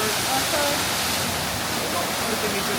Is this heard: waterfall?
yes